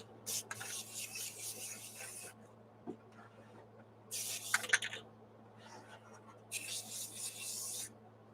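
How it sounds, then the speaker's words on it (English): An airbrush sprays weathering paint onto an HO scale CSX model locomotive in short hissing bursts of a second or two, separated by quiet pauses over a faint background hum. "So for this engine, we're gonna spray it again."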